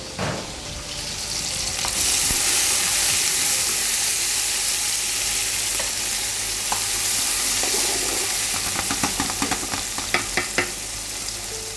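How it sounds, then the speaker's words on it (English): Onions sizzle and fry in a hot pot while being stirred, a steady loud hiss broken by scraping clicks of the spoon toward the end; the dish is a traditional Murgh pilau. "So what we do need now is just wait till the onions are golden brown."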